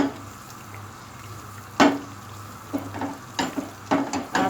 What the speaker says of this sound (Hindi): चमचे से भी भूनते जाएं आप इसको